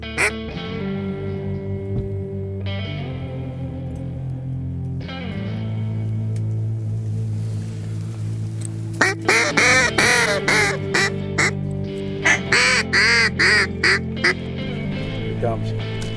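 Ducks on water quack in loud, rapid, distorted bursts over the second half, preceded by low steady droning tones; no clear speech.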